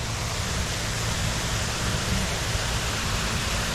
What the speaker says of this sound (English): And there you go, the waterfalls.